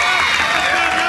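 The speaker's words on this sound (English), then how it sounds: "South Callaway crowd was excited about that one initially" A high school baseball crowd at a state championship game cheers and roars continuously as a ball is lifted into left field, a dense wash of voices throughout.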